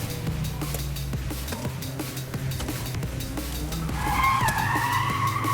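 A car skids and squeals its tires through a cone slalom course during a race, with steady loud engine drone and a rising tire squeal toward the end, no speech.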